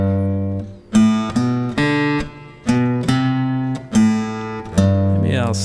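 Acoustic guitar strums a song intro in rhythm using all downstrokes, a steady run of picked notes over open bass strings, bright and close, with no talking.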